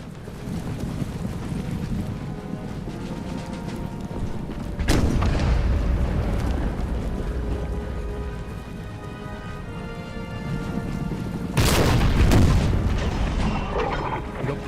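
Cannon and field artillery fire in the Empire Total War strategy game, two heavy booms several seconds apart over a constant battlefield rumble and background soundtrack.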